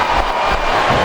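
Arena crowd noise from the WWE SmackDown vs Raw 2007 wrestling video game on PS2: a dense, steady roar of cheering with no distinct voices standing out.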